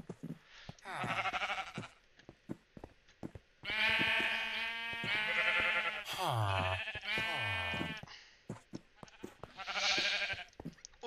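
Sheep in the video game Minecraft bleat several times in quick succession, producing loud, wavering bleats with short gaps between them and no other sounds underneath.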